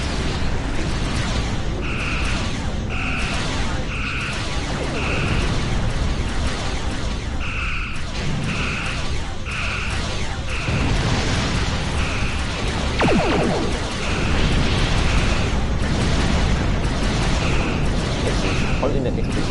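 Explosions and weapon fire in a Star Trek space combat video game, a dense, continuous rumbling roar with repeated blasts and bursts, alongside intermittent beeping tones and talk.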